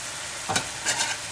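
Sriracha hoisin sauce for ribeye steak bubbles quietly in a pan, with two short bursts of sizzling and stirring over a soft, low hiss.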